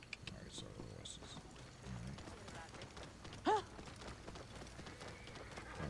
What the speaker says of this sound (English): Alright, so the horses.